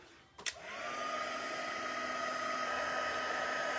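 A heat embossing tool switches on with a click and settles into a steady, close whooshing blower hiss as it melts embossing powder on a Christmas stamping project, continuing alone without speech.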